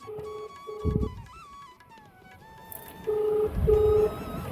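A series of electronic phone dialing tones, several short beeps in quick succession, with a pause before another pair of tones.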